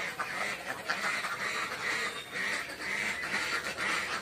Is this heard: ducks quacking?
yes